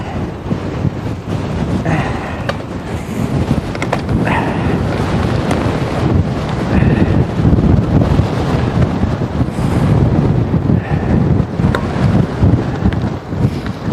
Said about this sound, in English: So the wind speed, we have gusts over 70 kilometers an hour